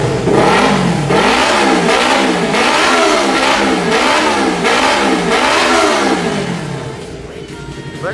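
A Yamaha R25 motorcycle fitted with a Prospeed Python series exhaust revs hard and repeatedly, with loud close rising and falling engine wails. It settles toward idle at the end.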